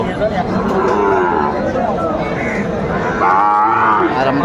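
Sahiwal breed cattle and calves low at a busy livestock market in Rajshahi and Chuadanga, with a loud, drawn-out moo close by over a murmur of people talking in the background.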